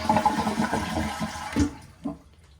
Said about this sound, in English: we're just going to quickly flush any of the excess water out of the toilet.